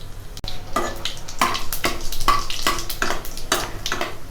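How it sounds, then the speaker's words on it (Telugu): Bay leaves, shahi jeera, cloves, green and black cardamom and whole garam masala fry in ghee and oil for a dhaba-style mutton curry. A close sizzle is broken by regular, rhythmic stirring scrapes, and no one speaks. "నెయ్యి కూడా మెల్ట్ అయిన తర్వాత 2 బిర్యానీ ఆకులు, సాజీరా, లవంగాలు, ఇలాచి, బ్లాక్ కార్డమన్, హోల్ గరం మసాలా మొత్తం దీంట్లో యాడ్ చేసుకొని ఒక 2 మినిట్స్ ఫ్రై చేసుకోవాలి"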